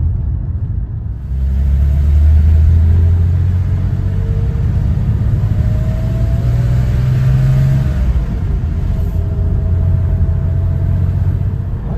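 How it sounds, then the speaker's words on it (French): A 1988 Porsche 911 with a naturally aspirated flat-six, its engine rumbling loud and close and rising through a couple of revs, with no talking. "c'est un flat 6 atmosphérique qui peut monter jusqu'à 6500 tours à peu près"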